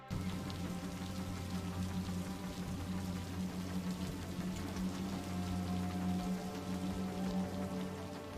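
Steady rain patters and hisses on a surface as a continuous, even wash of sound with no voices, used as an ambient rain overlay for animated art.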